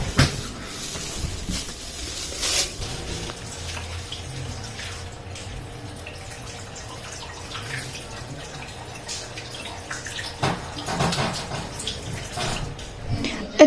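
Tap water runs steadily into a sink while something is washed under it, with brief splashes and clatter near the start and again toward the end; no one speaks.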